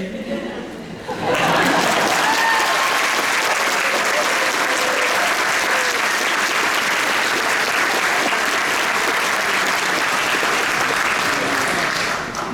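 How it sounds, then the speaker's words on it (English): Applause at a Doctor of Physical Therapy awards ceremony, a loud, sustained crowd clapping that swells suddenly and holds for about ten seconds, with some chuckles and chatter mixed in. "Wait for the applause and..."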